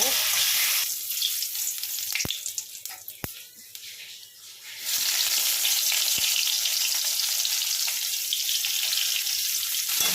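Potatoes frying in hot oil make a loud, dense, continuous sizzle close by, dipping briefly in the middle before surging back to full strength.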